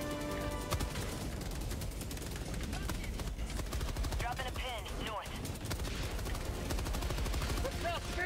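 Rapid gunfire cuts down enemies in Helldivers 2, with steady dense shooting throughout, swooping effects and a voice talking over the constant battle noise.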